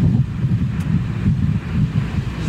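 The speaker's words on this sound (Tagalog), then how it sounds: "Ang lamig dito guys, so mahangin guys" Cold wind gusts steadily across an outdoor spot near a large building, a continuous low roar buffeting the microphone for the whole stretch with no voices.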